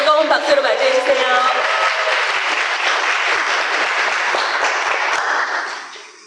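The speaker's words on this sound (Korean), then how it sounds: "뜨거운 박수로 맞이해주세요" An audience claps warmly to welcome a speaker onto the stage at a Korean skin-care academy talk, dense sustained applause that carries on evenly for about five seconds before fading out.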